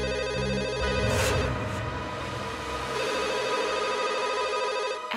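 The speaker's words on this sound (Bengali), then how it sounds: "এত রাতে কে ফোন করছে?" A telephone rings late at night in an indoor scene, a loud repeated electronic bell tone that sounds close and continues for several seconds over a low background.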